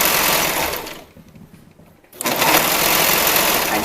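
A sewing machine stitches elastic onto swim bottoms, running at a steady whirring buzz, pausing for about a second, then starting again at full speed and running on continuously.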